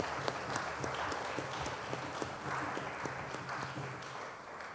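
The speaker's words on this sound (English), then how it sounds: "Could we give them a round of applause," A church congregation at a carol service gives a round of applause, a dense sustained clapping that fills the space and tapers slightly at the end.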